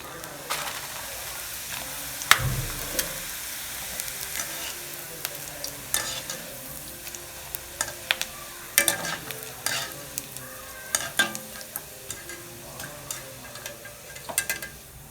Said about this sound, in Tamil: நல்லா எண்ணெய் காஞ்சிட்ருக்கு. இதை பொரித்து எடுத்துக்கலாம்.